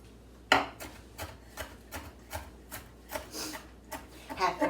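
A knife chopping onion on a board, a string of separate soft cuts at an uneven pace, fairly faint and close, with no talk.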